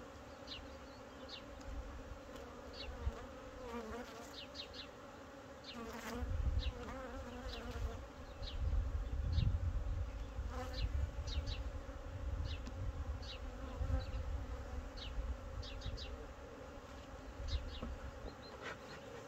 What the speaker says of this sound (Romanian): Cam așa arată familia, e plină de albine